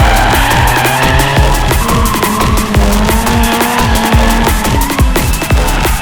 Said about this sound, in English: The drift cars came in one by one